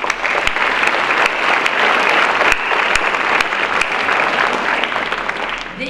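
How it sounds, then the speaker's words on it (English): An audience at a university pharmacy school hooding ceremony applauds the faculty, with loud, dense clapping sustained throughout and a few sharper claps standing out before it begins to thin at the end. "I would like to take a moment to applaud them"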